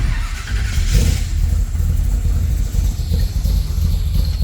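A 1965 Chevrolet Impala SS engine turns over and settles into a steady idle, close by, with a brief rev early on and a continuous low rumble.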